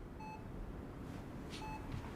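Two short, thin electronic beeps from a hospital machine, spaced about a second and a half apart, faint over a soft background hiss.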